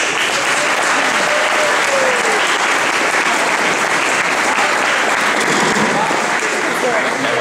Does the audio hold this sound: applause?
yes